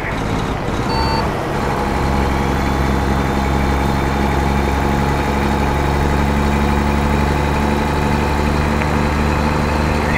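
A truck engine idles in American Truck Simulator, a steady low rumble that stays loud and constant throughout, with a faint reversing beep early on.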